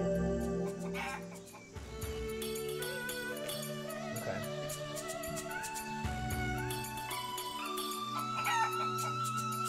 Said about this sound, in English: random ass chicken that's just in here for some reason, making clucking noises